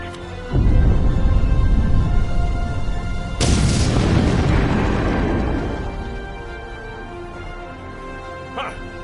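Explosion in the space game Star Trek Online: a sudden broadband boom that bursts in loud, then decays slowly over several seconds, over continuous low rumbling game ambience, with a faint voice present.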